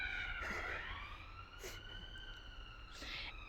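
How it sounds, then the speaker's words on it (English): Distant emergency vehicle sirens wailing outside, rising and falling softly under faint background noise, with a few brief bursts of other sound. "yes, Sirens."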